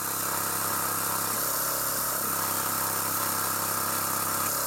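An air compressor's electric motor runs steadily with an odd gear noise, a constant mid-pitched hum and whine with a brief dip in tone partway through, close and continuous with no voices.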